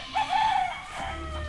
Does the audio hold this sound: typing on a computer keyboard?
no